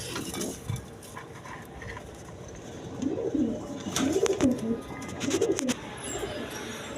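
Pigeons at a pigeon farm cooing in soft, repeated low throaty phrases, nearby, against a faint background murmur.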